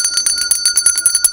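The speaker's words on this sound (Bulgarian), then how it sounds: "Иха, много яко звънче." A small metal bell rings fast and loud, its bright metallic strikes repeating in a rapid, slightly uneven trill close by.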